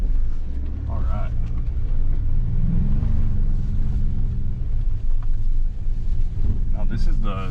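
A 2-liter Ford Bronco Sport in Badlands trim driving an off-road course in Tennessee, its engine a steady low rumble with wind buffeting the microphone while people talk inside the cabin.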